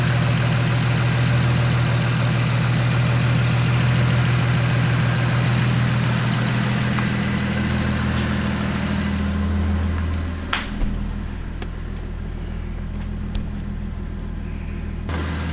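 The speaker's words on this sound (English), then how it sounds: "Let me go start the car." A car engine after a coolant line repair starts and settles into a steady, close idle, a low continuous rumble heard alone with a few faint clicks partway through.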